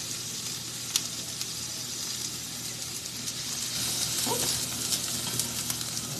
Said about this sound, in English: we're just going to saute these just a little bit to get them, start softening up